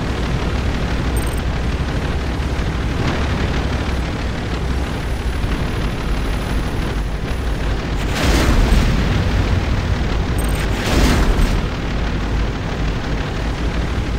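Explosions from a Nod unit being destroyed in the Renegade video game, a dense rumbling boom-like roar with two brighter loud bursts around the middle and end, over constant game background noise.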